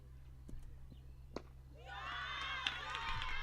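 Mozambique cricket players cheer and shout from a distant changing room during a women's under-19 T20 qualifier match, a faint burst of crowd-like yelling rising after a few soft thumps over a low steady hum.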